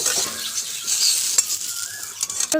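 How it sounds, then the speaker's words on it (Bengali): Boiled young jackfruit pieces fry in hot oil, giving a steady close sizzle with occasional stirring clinks and scrapes throughout. No one speaks. "সিদ্ধ করে নেওয়া এঁচড়গুলো ভেজে নেব খুব ভালোভাবে ভেজে নিতে হবে"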